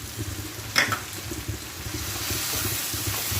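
Salted black beans drop into a hot pan and sizzle: a brief clatter, then steady frying crackle and hiss, fairly close, with light stirring.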